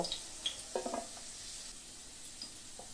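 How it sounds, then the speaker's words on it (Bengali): Carrots and radish frying in hot oil for a vegetable navratan dish give a faint, steady sizzle, with a few soft stirring scrapes near the start and no talk. "গাজর একটুখানি ভাজা হয়ে গেলে এর মধ্যে কেটে রাখা মূলো দিয়ে দেব।"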